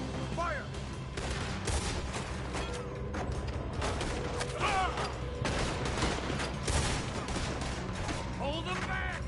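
Rolling volleys of gunshots and clattering mechanisms fill a cowboy-themed video game battle, sustained over several seconds while voices shout and talk over the firing.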